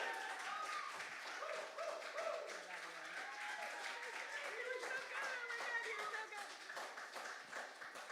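Audience applause after a live music performance: steady clapping fills the whole stretch at a moderate level, with voices and some tonal sound mixed in underneath.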